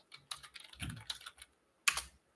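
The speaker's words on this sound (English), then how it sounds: "Typing and talking is not my forte." Someone types on a computer keyboard, quiet irregular clusters of key clicks with brief pauses and one sharper tap near the end, no talking.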